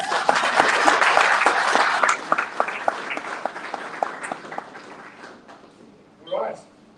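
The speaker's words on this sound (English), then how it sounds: "So I'd like to say a huge round of applause for parents as well." An audience at an ice hockey team blazer ceremony claps for parents, a loud burst of applause that thins into scattered individual claps and fades, with a short spoken voice near the end.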